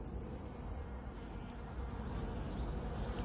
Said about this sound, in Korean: 꿀벌들 엄청나네요.